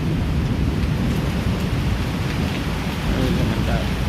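Heavy rain pours steadily during a night thunderstorm with lightning in Barishal, making a dense, unbroken roar throughout, with possible low rumbling underneath.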